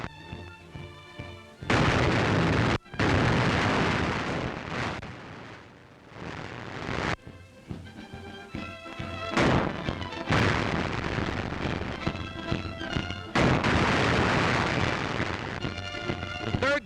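Field artillery of the 7th Field Artillery fires during snowy winter maneuvers, heavy booms and explosive blasts bursting at irregular intervals over a rumbling background, loud and close, with no talk.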